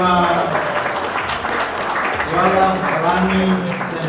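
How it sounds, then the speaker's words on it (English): Applause from the audience at a memorial service, a dense steady clapping that runs throughout, mixed with voices and background sound. "Another round of applause for Tioma"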